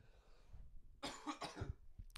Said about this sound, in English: Sorry, I've got a cough.